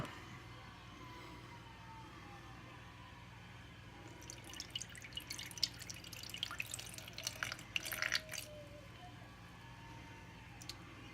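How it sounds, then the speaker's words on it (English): Old yeast slurry poured from a container, heard as a quiet wet trickling and splashing that starts about four seconds in, swells for several seconds, then fades against a low hum. "Let's get this yeast, some of it poured out here."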